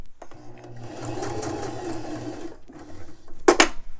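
A sewing machine stitches elastic onto a fabric face mask, giving a rapid, steady mechanical whir for about two seconds, a short pause, then a brief burst of stitching, all close.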